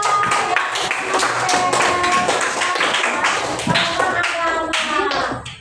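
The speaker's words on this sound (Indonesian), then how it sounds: "Kasih tepuk tangan untuk kamu semua." Students in an Indonesian classroom clap together, sharp distinct hand claps in a loose, fast rhythm, loud and close, with brief voices audible among them.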